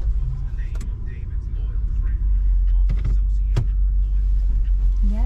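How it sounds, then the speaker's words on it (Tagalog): Car idling and rumbling as it moves off in a queue of vehicles at a food distribution drive-through, steady low engine noise throughout with brief clicks and a faint rising whine near the end; people talk quietly inside. "Nag-go na yung sasakyan."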